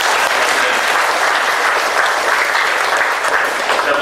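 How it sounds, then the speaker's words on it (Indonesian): School event audience, with young researchers and their teachers present, applauding in a dense, continuous burst of clapping from a large crowd, loud and close throughout. "Tepuk tangan dulu buat."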